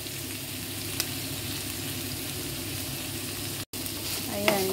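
Onion and carrots sauté in a pan for a cabbage stir-fry, giving a constant close sizzle that drops out briefly near the end and then returns.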